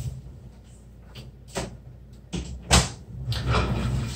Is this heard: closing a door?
yes